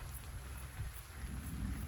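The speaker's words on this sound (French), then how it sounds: "Les éclairs commencent à se rapprocher." Rain falls steadily during a summer evening thunderstorm near Auxerre, with a low, continuous thunder rumble swelling underneath; the sound is faint and distant, with no voices.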